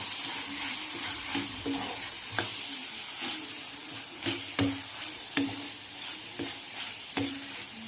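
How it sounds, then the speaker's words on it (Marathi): Masala with Byadgi chili powder sautéed in a pan for paneer masala: a steady close sizzle broken by repeated scraping, stirring strokes and light knocks of the spoon against the pan, with no talking. "आता मी पुन्हा ह्याच्यामध्ये छान असं परतून घेते."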